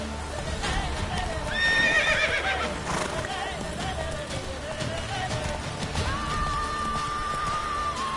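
Roach, the horse in The Witcher 3, gives loud whinnying neighs over a bed of clopping hoofbeats as it runs.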